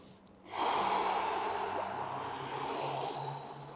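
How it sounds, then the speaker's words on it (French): A deep, long inhaled breath is drawn just before immersion in ice-cold water for an under-ice swim without a wetsuit, a loud breathy rush that starts abruptly and holds steady for several seconds. "Ok, allez, j'inspire."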